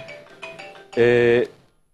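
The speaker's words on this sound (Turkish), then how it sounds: "Herhalde yayına ses gitti mi bilmiyorum ama telefonumuz çaldı." A phone rings during a TV broadcast with a short burst of loud, harmonic electronic tone lasting about half a second, after soft background talk.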